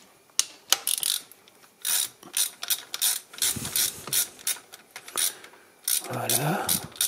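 A ratchet loosens a bolt on a 2006 Mercedes C200 during an injection pump replacement, giving quick, uneven bursts of sharp clicking up close. Short pauses break up the clicks, and a little low handling noise comes near the end.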